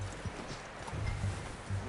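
Horse hooves clip-clopping at a steady rhythm in the game Red Dead Redemption 2, close and moderately loud, with a faint whinny mixed among the low thuds.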